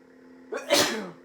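A single loud sneeze bursts out close by after a brief quiet lead-in, with a sharp intake and a breathy trailing release.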